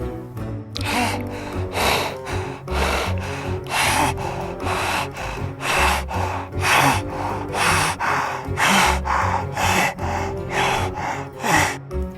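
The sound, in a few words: voice imitating monster panting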